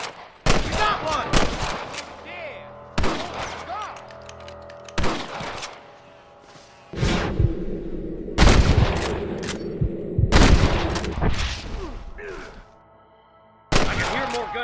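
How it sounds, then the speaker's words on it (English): Gunfire in the video game Red Dead Redemption, with loud bursts of several shots in quick succession breaking out repeatedly and separated by brief quieter gaps. "I can hear more gunshots."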